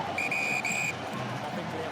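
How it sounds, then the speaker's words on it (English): A referee's whistle at half-time in a rugby final between Exeter Chiefs and Bath, two sharp shrill blasts in quick succession over a steady roar of stadium crowd noise. "that brings the half-time whistle"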